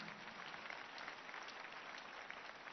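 A church congregation claps together during a Sunday service, a steady, dense wash of applause that holds evenly and fairly faintly throughout, with no voices standing out.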